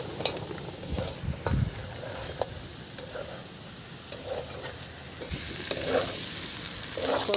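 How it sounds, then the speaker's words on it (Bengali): Mutton curry with ground spice paste being sautéed in a pan for a Durga Puja meal, uneven sizzling broken by repeated spatula scrapes and knocks, close and moderately loud. "কত সুন্দরভাবে কষা হয়ে গেছে দেখুন, হেবি সুন্দর করে কষে নিয়েছি"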